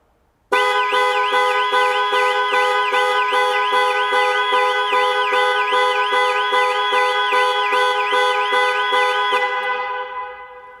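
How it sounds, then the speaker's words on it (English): A Jaguar I-PACE's panic alarm blares its horn continuously for about ten seconds, a harsh tone warbling rapidly and steadily before cutting off abruptly. "press 3 times in 3 seconds and the horn will sound and the hazard lights will flash"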